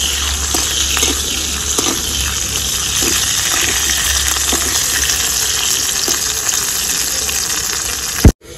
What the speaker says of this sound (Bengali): উচ্ছেটাকেও হালকা করে ভেজে নিব।